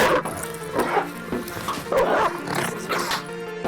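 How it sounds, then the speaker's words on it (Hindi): Several dogs bark and yelp loudly in overlapping, irregular bursts, sounding close and agitated throughout. "सारे कुत्ते जोर जोर से चिल्लाने लगे"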